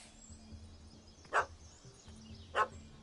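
A puppy barks twice at a cat that has fled up a tree, each short yip standing out clearly about a second apart over a quiet outdoor background.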